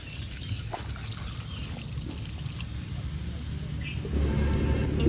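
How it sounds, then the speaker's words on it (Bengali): Water poured into a pan of pomfret in mustard curry, a soft trickling stream close by that grows heavier and louder toward the end. "এবার দিয়ে দেব পরিমাণ মতো জল।"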